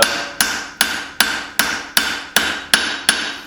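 Nine evenly spaced, ringing hammer blows strike a knife blank while its bevels are forged, each sharp impact decaying into a brief metallic ring, loud and close with no talk.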